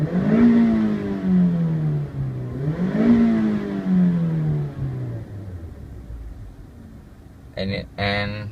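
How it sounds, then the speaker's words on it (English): A 2013 Mazda 3 engine revs twice from inside the cabin, each rise sweeping up then slowly falling back to idle, loud and near, with a brief voice near the end. "I'm gonna rev the car up for you so they can kind of hear from how it is inside."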